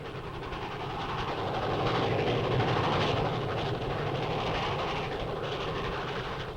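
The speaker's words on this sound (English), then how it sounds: "Of course, the speed, the length, and power of a train were always exciting." Train passing through rural Holtville, Alabama, a broad rushing roar that swells to its loudest midway and stays strong, with steady rolling clatter.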